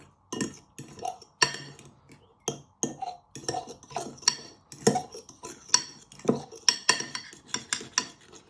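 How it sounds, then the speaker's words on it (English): A fork stirs a ketchup mixture in a dish for seafood pasta, giving a steady run of close, sharp metallic clinks and scrapes against the bowl in an uneven rhythm, with no talking. "And then you want to give that a good stir with your fork."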